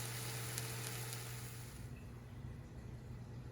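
Garlic frying in a pan over medium heat, a close, dense, continuous sizzle that eases slightly softer partway through.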